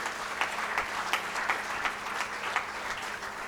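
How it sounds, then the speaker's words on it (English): Audience applause at a Lions Clubs awards night, dense steady clapping from a hall crowd with regular sharper claps standing out, fairly close and alone. "Please give them a big round of applause."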